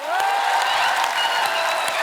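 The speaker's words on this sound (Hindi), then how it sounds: "आप सबकी जोरदार तालियों के बीच मराठी तरीके से स्वागत करेंगे आप सबके प्यारे एडोरेबल कपल जेनेलिया एंड रित" Studio audience at a comedy talk show bursts into loud, dense applause with some cheering to welcome arriving guests, continuous and close throughout.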